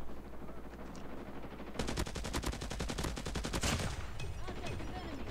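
Rapid automatic gunfire from the Hades weapon in a ranked Call of Duty-style shooter match bursts out in a dense, steady volley of shots after a quieter stretch, then fades to game ambience.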